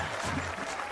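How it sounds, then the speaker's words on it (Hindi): Crowd clapping in a South Indian action film scene at a village gathering, a brief, fairly soft patter of applause with a faint voice mixed in. "तालियां बजाओ।"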